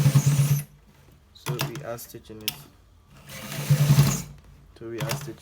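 A sewing machine stitches a designer shirt collar in four short close bursts of rapid mechanical whirring, separated by near-silent pauses.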